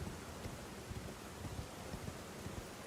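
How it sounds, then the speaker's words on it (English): Steady rain hisses across a stormy outdoor area in Elden Ring, with soft low rumbles of thunder rolling faintly beneath, a continuous quiet wash with no voices. "it is like in a storm outside. I can hear the thunder"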